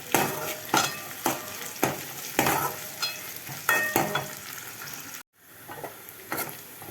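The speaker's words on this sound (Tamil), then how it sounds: "வெங்காயம் கிட்டத்தட்ட வதங்கிடுச்சு." Onions sautéing in a pan for a Sunday mutton gravy, being stirred with a utensil: steady close sizzle of frying broken by repeated rhythmic scraping strokes, with a brief dropout near the end before the sizzle resumes.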